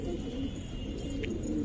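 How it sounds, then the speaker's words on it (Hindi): Racing pigeons coo softly and steadily as they are released from a rooftop, against a constant low background rumble, with no talking. "तो खुलते हैं कबूतर"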